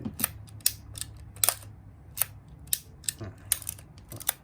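Sharp mechanical clicks of a Yashica Electro 35 MC film camera's shutter and film advance repeat at irregular intervals, close and crisp against a faint low hum, with no talking.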